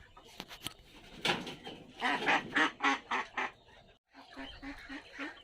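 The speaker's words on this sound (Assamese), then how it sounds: "এইটো হাঁহ কালিৰ পৰা দানা খোৱা নাই" Several ducks quack close by in quick, repeated bursts, with a brief pause before another run of rhythmic quacks.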